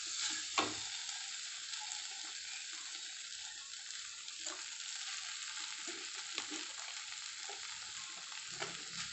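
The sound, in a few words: mixing noodles and vegetables in a frying pan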